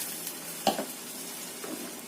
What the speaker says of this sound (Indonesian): Ini kita tumis dulu sampai tercium bau enak.